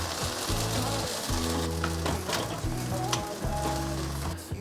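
Tofu patties pan-frying in oil as they near done, with a steady close sizzle and crackle running through the whole stretch and no talk over it.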